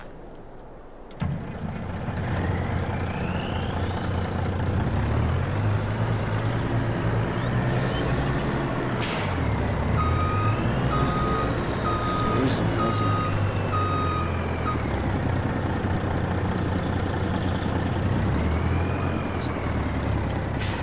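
A truck in Farming Simulator 22 starts up, then its engine idles and revs while steady reversing beeps repeat, with a short hiss of air brakes in the middle.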